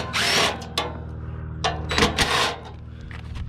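Power tool backing out bolts from the shield on a John Deere X500 mower with a Kawasaki engine, short whirring bursts separated by pauses, close and fairly loud with light clatter.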